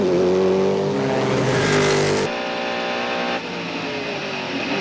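A Le Mans race car leaves the pits, its engine loud and climbing in pitch before cutting away sharply as it pulls off, with no talking.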